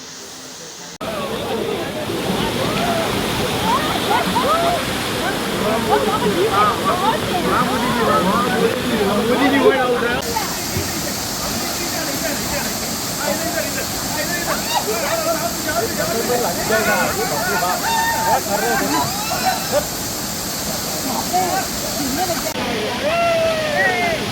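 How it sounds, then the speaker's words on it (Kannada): Third falls of Sulsulo waterfall in Goa during the monsoon, a constant loud rushing roar of falling water up close, with people talking and calling out over it throughout. "ಇದು ಸುಸುಲೋ ವಾಟರ್ ಫಾಲಿನ 3ನೇ ಫಾಲ್ಸ್ ಇವಾಗ ನಾವು ಬರ್ತಾ ಇರೋದು."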